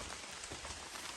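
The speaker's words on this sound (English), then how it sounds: "Oh, and it's starting to rain." Rain beginning to fall on an outdoor hiking trail, a steady broadband patter of drops striking the ground and surfaces nearby, continuous and fairly even throughout with no voices.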